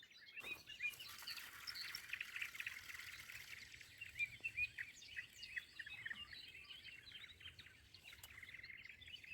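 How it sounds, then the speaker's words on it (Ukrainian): Many birds chirp and sing together at a distance at five in the morning on a spring day, a steady faint chorus of overlapping tweets over a quiet outdoor hush by the Horyn River in Ukraine. "П'ята ранку пташечки співають"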